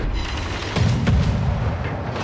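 Warship main battery guns firing in World of Warships, two dull booms in quick succession over a constant low rumble of sea and engine noise.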